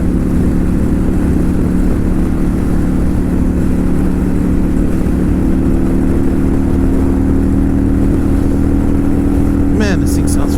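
A 2018 Kawasaki Vulcan Custom motorcycle engine drones steadily and loudly while cruising around Las Vegas, with constant wind rush over the whole stretch and a brief higher whine near the end.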